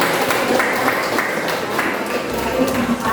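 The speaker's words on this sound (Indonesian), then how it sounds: "Kita kasih tepuk tangan dulu." Applause from a classroom group of students, a steady patter of many hands clapping with crowd murmur and some talking mixed in, moderately loud throughout.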